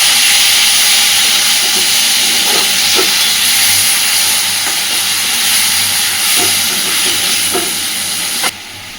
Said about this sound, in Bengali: সুন্দর করে আলুর সাথে মশলা কষাতে থাকবো।